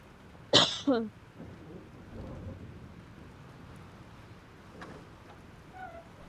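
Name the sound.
thunderstorm in the video game Life is Strange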